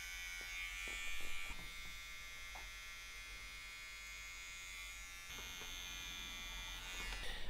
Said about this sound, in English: So the little trimmer, very easy.